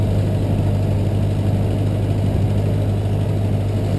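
A 1922 Ford Model T engine runs steadily in low gear while the car cruises, giving a constant low, droning rumble with no breaks from start to finish.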